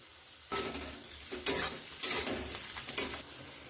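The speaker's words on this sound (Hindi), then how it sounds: "अब इसे अच्छे से हम भून लेंगे। बीच बीच में इसे हम चलाते हुए रहेंगे।" Bamboo shoots roasted in a pan and stirred now and then, giving soft sizzling and a few distinct scraping strokes of a spoon against the pan, close and fairly quiet with no talking.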